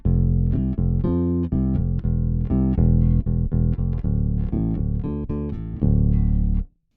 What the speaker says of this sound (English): So this is the DI signal.